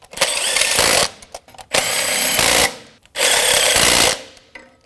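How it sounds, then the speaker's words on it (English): Power tool driving bolts on a 2011-2016 Ford F-350 6.2L V8 engine while replacing the crankshaft position sensor: three loud, sustained bursts of whirring, each about a second long, separated by short pauses and small clicks, with no talking. "Snug these bolts up."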